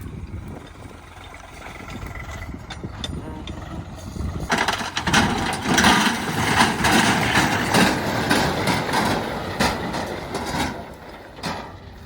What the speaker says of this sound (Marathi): ट्रॅक्टर गेला आता परत भरण्यासाठी